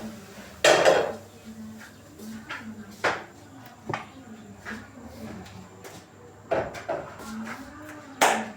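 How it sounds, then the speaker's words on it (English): A pot of maize is set onto a jiko stove with several sharp metallic clanks and knocks of the pot against metal, spaced irregularly and close, between quieter scraping sounds. "I want to put it on the jiko for it to boil."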